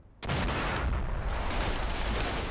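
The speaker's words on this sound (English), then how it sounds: "another chunky explosion in there" An artillery shell bursts in the Combat Mission World War II tank-and-infantry game, a sudden loud blast that rolls into a long rumbling roar without talk.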